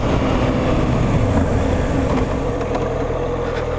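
A loud, steady motorcycle engine roars close by, revving harder as it accelerates hard in third gear, a dense rumble throughout.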